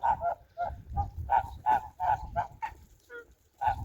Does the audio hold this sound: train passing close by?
no